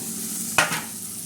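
Onion, garlic and green chilli tempering in a pan gives a soft, brief sizzle with a single stirring scrape, close and quiet, with no voices.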